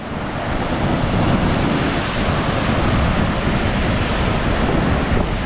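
Rough sea waves surge in a loud, dense, unbroken roar, with wind buffeting the microphone throughout and no clear breaks between swells.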